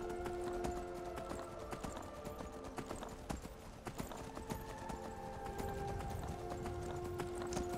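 Horse hooves clip-clop in a steady rhythm in Skyrim, with the ride continuing against a background of game music and ambience.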